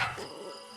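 A small dog, one of three film-star dogs from the Astérix movies, gives a quick bark at the very start, fading into a soft tail of room sound and faint background.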